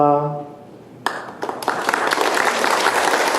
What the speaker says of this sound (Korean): 선배들은 박수로 환영해 주자